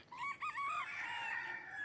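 A chicken makes a short series of drawn-out, squawking calls, close by and fairly loud, with no talking.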